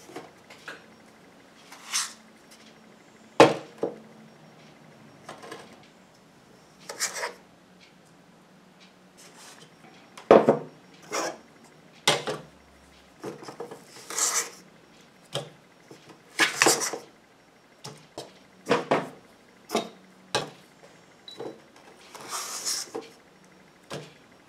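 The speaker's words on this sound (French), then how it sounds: "je vais venir dispatcher ma pâte dans différents récipients" Bath bomb paste is scooped and scraped into several separate containers, with a long series of close, distinct scrapes, taps and clinks spaced irregularly over quiet pauses.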